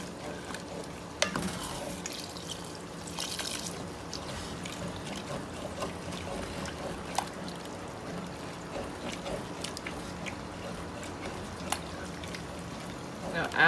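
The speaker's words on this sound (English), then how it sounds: "I'm going to pour just a little bit of chicken broth in here because this is a stew." Chicken broth is poured into a stew pot with a steady, close trickling splash over the constant sizzle and stirring of cooking food.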